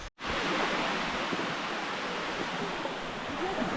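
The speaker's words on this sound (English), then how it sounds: "Our first glance at the sticky waterfalls." The Sticky Waterfalls near Chiang Mai pour in a steady, broadband rush of falling water, constant and fairly close, after a brief instant of silence at the start.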